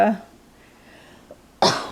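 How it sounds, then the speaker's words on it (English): A person coughs once at the start and again, louder, near the end, with quiet pauses in between. "I'm coughing already."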